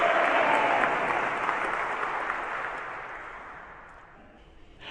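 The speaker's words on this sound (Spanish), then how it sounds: "Démosle un aplauso al Señor" Church congregation applauding during a Catholic service, a broad burst of clapping from many people that starts full and gradually fades away over several seconds, heard alone without speech.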